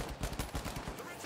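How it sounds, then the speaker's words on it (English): Rapid bursts of video game gunfire from a team shooter match, fairly loud and dense with overlapping shots, while the player is being fired on from a long distance. "Getting shot from across the map."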